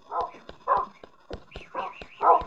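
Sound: dog barking in Minecraft video game

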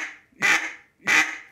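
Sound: duck call quacking, RNT Calls DC Mondo

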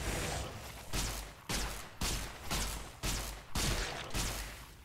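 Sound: zappy energy gun shooting plants, video game Fallout New Vegas

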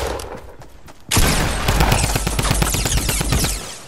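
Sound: gunfire from video game

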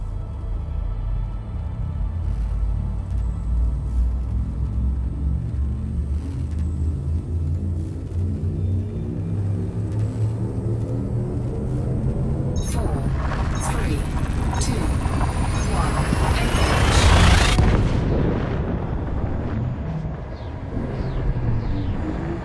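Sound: frameshift drive charging and jumping in Elite Dangerous video game

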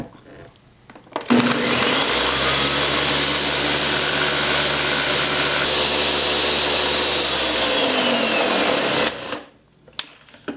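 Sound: blender blending sea moss and spring water into gel

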